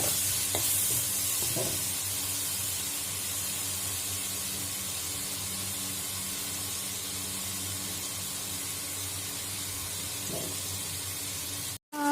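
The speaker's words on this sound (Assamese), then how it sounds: "পিয়াজখিনি ৰঙচুৱা হোৱাৰ পিছত মই ইয়াত আদা নহৰু জলকীয়া কৰি ধনিয়া কৰি মিক্স কৰি থোৱা সেই পেষ্টখিনি দি দিলোঁ ইয়াত আৰু এইখিনি ভালদৰে এতিয়া মঠিবলৈ দিম" Onions stir-fried with a paste of ginger, garlic, chili and coriander, cooking for a fish curry with tomato: a steady, close sizzle and hiss with occasional soft stirring scrapes, no talk.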